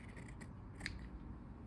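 Scissors snip through upholstery fabric during a couch reupholstering job, giving a few quick, faint, close cuts over a low background hum.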